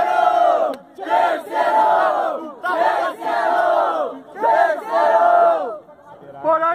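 A crowd at a freestyle rap battle roars and chants in repeated loud bursts, with brief gaps between the surges of shouting.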